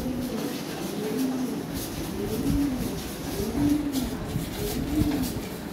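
Lahori Sirazi pigeons coo repeatedly in soft, rolling phrases, close by, over a constant background hum with no clear talk.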